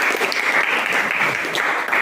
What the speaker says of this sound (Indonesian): sekarang tepuk tangan dulu untuk kita semua.